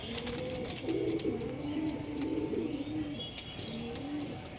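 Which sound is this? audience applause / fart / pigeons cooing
pigeons cooing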